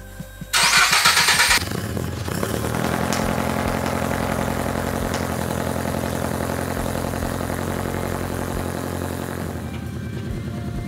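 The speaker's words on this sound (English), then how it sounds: "I'm gonna pull the car out." A Toyota GR86 engine cranks with a loud burst, catches, and settles into a steady idle that runs on, close by.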